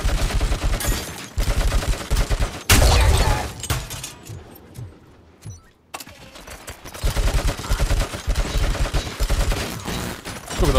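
Rapid bursts of gunfire in a video game, dense automatic volleys with glassy shattering, loud up close, dropping to a quieter lull midway before heavy firing resumes.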